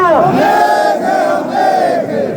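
A large crowd chants a slogan in unison at a protest rally in Kargil, Ladakh, demanding statehood; loud sustained voices rise and fall together in a steady repeating call.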